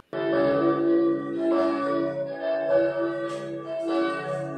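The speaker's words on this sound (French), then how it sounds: "C'est quoi ce bruit de cloche?" A church bell rings with several resonant strikes a second or so apart, each ringing out in rich, sustained overlapping tones that fill the whole clip.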